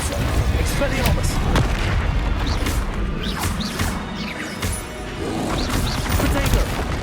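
Booming spell explosions and crashing impacts fill combat in Hogwarts Legacy, a dense, loud, continuous barrage of blasts with no pauses.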